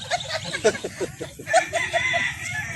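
Chickens cluck repeatedly nearby in short, uneven bursts, with a rooster-like call mixed in over a busy outdoor background.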